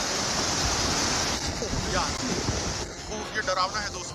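Rushing, churning floodwater roars steadily in a broadband wash, with brief faint voices surfacing near the end.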